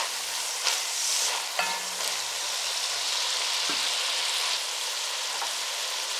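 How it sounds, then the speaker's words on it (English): Garlic sizzling gently in a soup pot while being stirred and swirled, a steady soft frying hiss with a few brief clinks and scrapes, close by and with no talking. "I just added the garlic. And we'll swirl that around a little bit and get some of the raw out of it."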